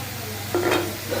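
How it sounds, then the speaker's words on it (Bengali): Chicken pieces with spices being stirred and sautéed in a pan, a soft steady sizzle with one brief scraping stir of a spoon in the middle. "এদিকে আছে মুরগির মাংস সব মশলা দিয়ে দিচ্ছি দিয়ে ভালো করে কষাই দিতেছি"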